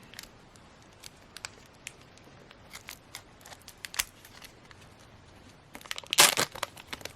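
Scissors cut open plastic LPS toy packaging, a sharp loud burst of snipping and crinkling near the end after scattered faint clicks and rustles.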